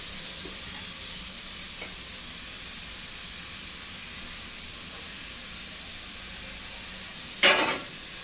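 Ginger paste fries in a pan for a kuzhambu curry, giving a steady, moderate sizzling hiss that holds evenly, then jumps into a sharp louder burst near the end before settling again.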